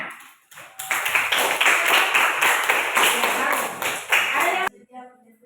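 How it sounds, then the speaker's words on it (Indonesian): A classroom group applauds together, a dense burst of clapping hands that swells quickly, holds steady for about four seconds, then cuts off, leaving faint murmuring voices. "Oke, tepuk tangan."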